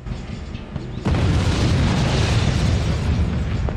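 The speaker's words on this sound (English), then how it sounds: "Sir, I heard an explosion!" A suicide truck blows up in the PC war game Act of War: Direct Action, a sudden loud boom cutting in over background battle noise and rolling into a long, dense rumble.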